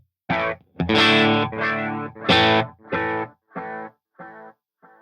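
An electric guitar through a distorted amp and a BBD chorus-style pedal plays a series of ringing chords and notes, each sustaining then fading, with a swirling modulation effect and crunchy tone.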